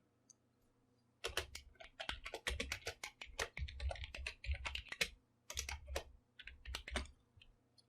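Keys clatter on a computer keyboard in quick irregular bursts as a database query is typed, close and fairly quiet, with brief pauses between runs of keystrokes.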